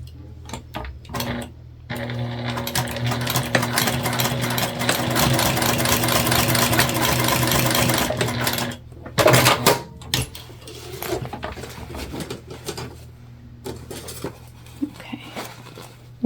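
A sewing machine runs in a long steady burst, basting webbing onto the top of a sling bag, then stops and gives a few short stitching bursts and clicks near the end.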